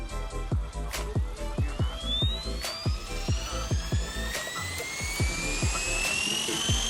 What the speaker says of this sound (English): Test the helicopter X360.